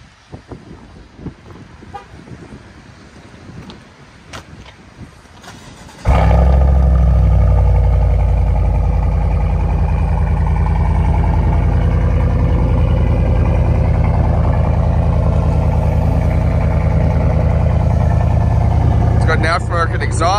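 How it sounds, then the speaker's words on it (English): Pickup truck with an X31 off-road package and aftermarket exhaust: after some talk and light handling noises, the engine fires up into a loud, deep, steady idle that holds to the end. "It's got an aftermarket exhaust, sounds really nice."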